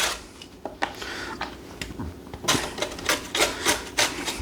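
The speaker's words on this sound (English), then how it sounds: "I don't want you to have to watch me grate carrots" Carrots are grated by hand on a grater for a Hawaiian macaroni salad, making uneven rasping scrapes with soft knocks, close by and alone.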